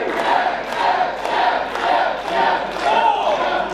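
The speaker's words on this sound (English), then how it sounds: "Crowd chants Germ." Wrestling crowd at a live pro-wrestling show chanting in a steady repeated two-beat rhythm, roughly every half second, a loud massed arena roar of voices.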